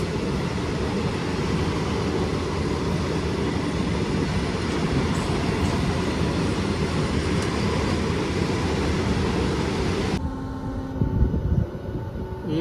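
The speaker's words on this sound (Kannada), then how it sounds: "ಇವಾಗ ಮತ್ತೆ ಡಿಪಾರ್ಟ್ ಆಯ್ತದ ನಮ್ಮ ಟ್ರೈನು" A passenger train on the Tirupati to Hyderabad special service rumbles loud and steady as it departs, a continuous close roar that drops and changes character near the end.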